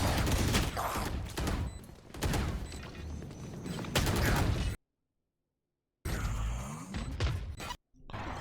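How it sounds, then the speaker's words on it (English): Valorant swarm grenade being placed in a video game, heard as loud bursts of popping and clattering effects that cut out abruptly into silence twice, then return in sharp clusters. "Placing swarm grenade."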